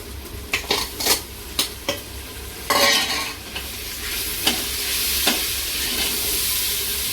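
Green chillies frying in a pan for chicken biryani, stirred with a utensil: repeated scraping strokes over a steady oil sizzle, close and fairly loud, with no voices.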